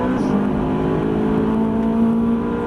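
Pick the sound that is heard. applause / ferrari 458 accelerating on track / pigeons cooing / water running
ferrari 458 accelerating on track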